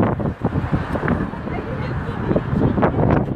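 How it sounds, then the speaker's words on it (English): Gusty wind buffets the microphone outdoors, a continuous low rumble with rough bursts, while a voice talks faintly underneath. "It's windy out here now."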